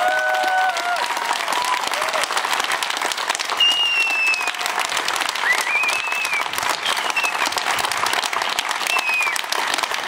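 Steady, dense applause from a large crowd at an outdoor protest against budget cuts in Odense, clapping continuously for the full length at an even, loud level, with a few faint voices and whistle-like tones poking through.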